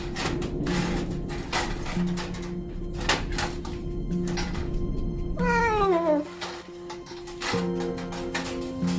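Feral cats caught in cage traps meow repeatedly, several loud, rising-and-falling cries close by over a steady mechanical hum, with a long drawn-out wail near the end.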